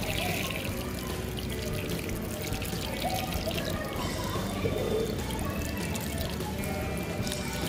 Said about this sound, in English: Once it is done, I will water the plant thoroughly.